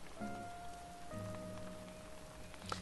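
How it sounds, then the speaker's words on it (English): Steady rainfall on an island in Animal Crossing: New Horizons, a soft continuous patter under a faint background tone, with a small knock near the end and no speech. "It's raining in our island."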